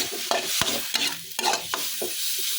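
Shredded chicken being stir-fried dry in a hot pan, a constant sizzle broken by rhythmic scraping strokes of a spatula against the metal, close and fairly loud.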